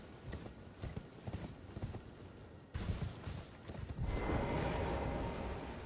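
Horse hooves clip-clop in a quick, steady rhythm while riding in Elden Ring, then give way to a louder, dense burst of combat-like noise.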